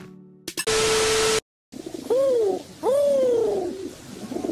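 In a JoJo's Bizarre Adventure dub, two soft, low cooing calls from a pigeon sound close by, each a drawn-out descending coo, after a brief burst of hissing noise.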